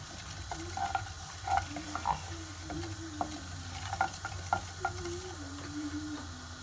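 Ingredients being lightly roasted in a pan, stirred with steady scraping strokes over a soft continuous sizzle, close by with no talking.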